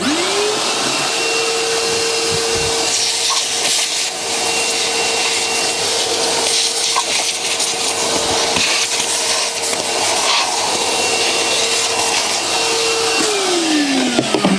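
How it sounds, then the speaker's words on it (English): A vacuum cleaner runs loudly and steadily in a workshop during cleanup of cast iron swarf from a mini lathe tailstock. It spins up at the start and winds down near the end, with scraping and rubbing throughout. "vacuum."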